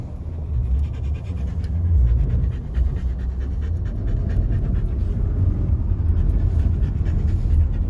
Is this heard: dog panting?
yes